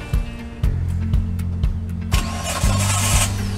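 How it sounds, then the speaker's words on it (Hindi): A sedan's engine cranks repeatedly off a portable jump starter, with several short bursts of starter motor turning, then catches and runs steadily with a brighter, louder idle at the end; no talking. "एक सेडान गाड़ी को तकरीबन 5 से 6 दफ़ा जंप स्टार्ट कर सकता है"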